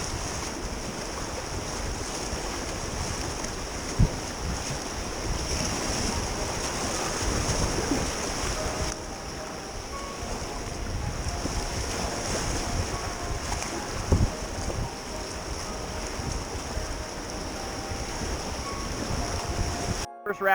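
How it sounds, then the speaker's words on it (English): Packrafts running river rapids in Desolation Canyon, with a continuous rushing roar of whitewater and gusts of wind buffeting the microphone, and a few knocks and bumps along the way. "before we know it, we're already launched into some rapids"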